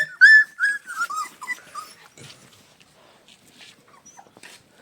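A mother dog whimpers in a series of high, whining cries that are loud and close at first, then trail off into faint, scattered sounds.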